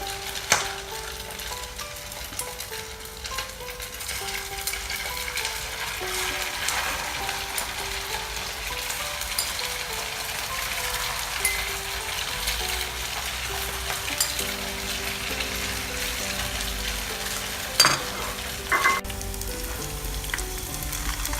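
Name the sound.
fish cakes frying in hot oil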